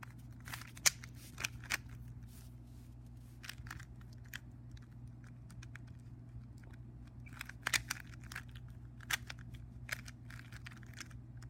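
A Rubik's cube is turned by hand while its corners are oriented, giving scattered sharp plastic clicks and clacks in irregular bursts over a low steady room hum.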